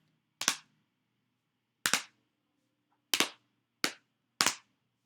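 Flam rudiment struck with both hands on a drum, five sharp doubled hits with a grace note just ahead of each main stroke, spaced about a second apart in an otherwise quiet room.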